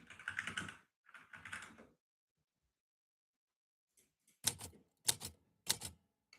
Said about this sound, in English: I need like slow typing.